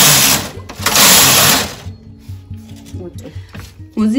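Brother KH-893 punch-card knitting machine carriage knitting jacquard, giving a loud mechanical whirring rasp for about two seconds, then quieter clicks and clacks of the mechanism.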